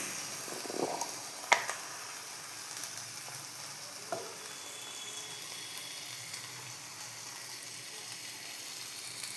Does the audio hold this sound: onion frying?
yes